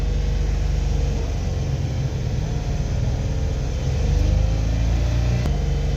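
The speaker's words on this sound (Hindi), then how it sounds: "ये देख रहे हैं 105 पर हो गया ऑन फ़ैन" The radiator fan of a 2014 Suzuki Alto kicks on at 105 degrees, a steady close whir blending with the idling engine's low rumble, with no talk.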